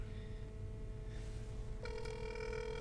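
A telephone line rings on a call placed to B&G Auto Repair in the Bronx, a steady electronic ringing tone that steps into a brighter, louder ring partway through, with no talking.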